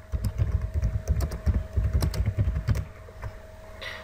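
Computer keyboard typing, a quick irregular run of close, crisp keystrokes for nearly three seconds, then thinning out to quiet with a faint stray sound near the end.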